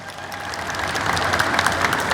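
A congregation at an Ethiopian Orthodox sermon claps and applauds steadily, a dense wash of many hands that swells slightly louder toward the end, with no speech over it.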